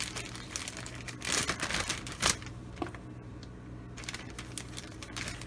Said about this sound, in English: Just shake that bag up.